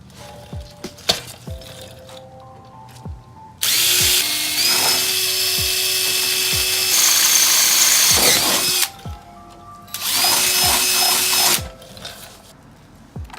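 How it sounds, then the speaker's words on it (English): A power drill whirs loudly in two long bursts with a short pause between, drilling holes into a car's front splitter, preceded and followed by quieter clicks and handling noises. "I'm gonna go ahead and start drilling the first holes onto the splitter"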